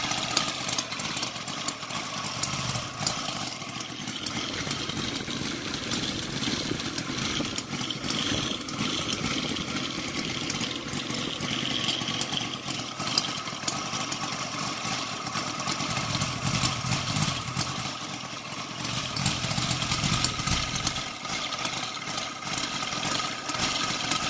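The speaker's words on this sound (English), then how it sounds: "It starts really easy. The idle is really low right now." A Sidel seven-cylinder radial engine, converted to run fully on gasoline with a CDI ignition, idles low and steady with a rough, pulsing, throbbing note, loud and close, with no talking.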